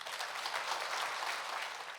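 A church congregation at a Baptist Easter dawn prayer meeting applauds to welcome a speaker, faint, even, dense clapping that continues throughout the brief moment without voices.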